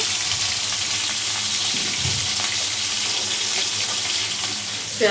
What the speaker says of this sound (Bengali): আমি মাছ ভেজে নিচ্ছি